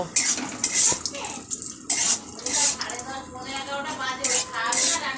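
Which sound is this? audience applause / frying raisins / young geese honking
frying raisins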